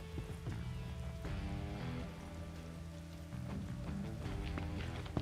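A soft wash of steady rain patters in the background beneath low game music tones.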